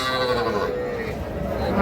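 A young heifer calf calls at a busy cattle market, a short, steady vocal sound against a dense, noisy crowd background.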